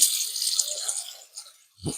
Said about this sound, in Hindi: मैंने एकदम ठंडी पानी से अपने फेस को वॉश किया है